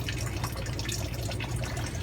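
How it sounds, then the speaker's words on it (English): Water gurgles and trickles steadily as an aquarium fish room's drain line empties into a sink, a continuous close splashing flow with a low rumble beneath. "the water will come up this pipe, go this way, and go up and drain into my sink."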